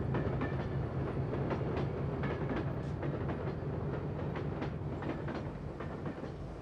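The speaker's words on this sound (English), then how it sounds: "The train was set in motion without a driver." A driverless train rumbles along the rails toward a nuclear flask collision test, with a steady low roar and faint rhythmic clicks, continuous and fairly close.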